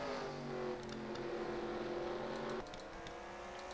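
Race cars lap the track at the 24 Hours of Sonoma, including the number 26 Corvette, with a sustained engine drone that rises in pitch, then drops as a car passes and the sound fades to a distant hum.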